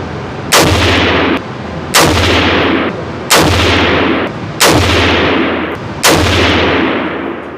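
An AR platform rifle fires five evenly spaced, loud shots at a 100-yard target, each a sharp crack with a ringing tail before the next round.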